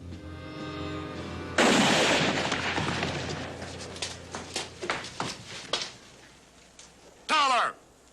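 Gunshots ring out in a western TV drama: a loud blast followed by a rapid series of sharp cracks, then a final close burst, with voices shouting around them.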